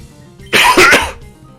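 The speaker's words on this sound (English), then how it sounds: "You're going to enjoy that cough." A single loud, close cough from an adult recording a Pokémon XD game session: one sharp, harsh burst lasting about half a second, with no talking around it.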